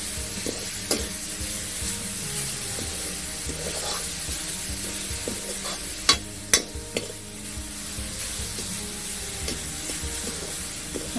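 Semolina frying with sugar syrup in a pan gives a steady soft hiss under continual rubbing and scraping of a spatula, with a few sharp taps against the pan.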